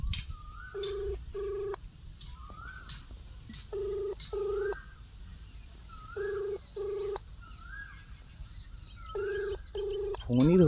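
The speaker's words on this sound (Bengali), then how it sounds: "রিং হচ্ছে," An outgoing phone call rings back through a handset speaker, with paired ringback tones repeating at a steady rhythm, moderately loud and close, with faint background hum and no talking.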